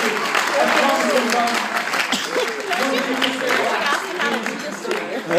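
An audience at a stage hypnosis show breaks into sustained, dense applause that holds steady throughout, with a host's voice briefly audible over the clapping.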